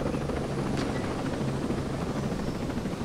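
A drone in the video game Ghost Recon Breakpoint hovers overhead, giving off a steady, loud rotor-like drone that runs unbroken from start to finish, with no talking.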